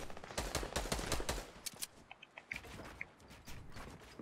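Gunfire in a video game, with a fast run of automatic shots that gives way to scattered single pops and clicks at moderate volume.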